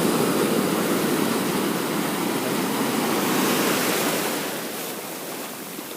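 Ocean surf at Santa Cruz Beach: a broad, continuous wash of breaking waves close by, steady and loud before easing slightly toward the end, with no voices.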